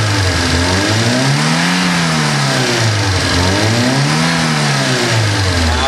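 A car engine revs up and down repeatedly during an engine diagnostic test, its pitch rising and falling in steady waves, loud and close, with no one speaking.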